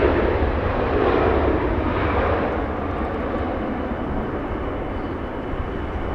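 Lufthansa Boeing 747 on approach to LAX over Santa Monica, a broad, steady jet rumble and roar heard from a distance, holding fairly constant and easing slightly toward the end.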